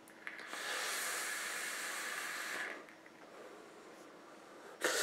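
A long, soft breathy hiss of e-cigarette vapour being exhaled after tasting a strawberry and apple e-liquid, steady for about two seconds and then fading, close and quiet.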